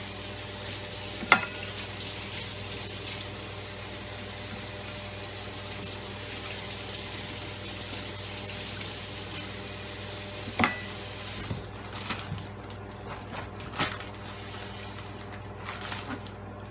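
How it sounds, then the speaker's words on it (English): Running tap water pours steadily as two ears of corn are rinsed under it, a continuous hiss with occasional knocks and splashes, the flow cutting off near the end, leaving scattered handling sounds. "2 ears of corn, and we're going to give it a wash."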